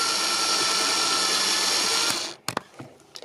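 A power drill bores a hole in a Hornby model semaphore signal, whining loud and steady for about two seconds before stopping, followed by a few sharp clicks and knocks.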